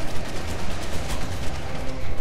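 Rapid, sustained gunfire from ARK: Otherworld, loud and close, with dense overlapping shots rattling continuously for a couple of seconds and no talk over it.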